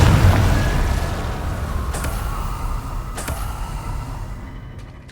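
A Confringo fire-blast spell explodes in Hogwarts Legacy: a loud opening boom that trails into a long, slowly fading rumble, with a couple of sharp crackling hits partway through and no voices.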